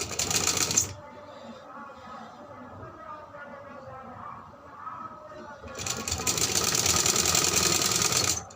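A sewing machine stitches the edge of a baby frock in two loud, steady runs, one at the start and a longer one at the end, with quieter handling and murmured speech between them.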